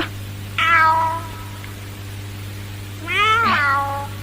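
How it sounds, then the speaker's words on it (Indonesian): A kitten inside a backpack meows twice, high and plaintive, each cry drawn out, with a quiet pause between them over a steady low hum. "Itu suara apa? Anak kucing ini dalam ransel."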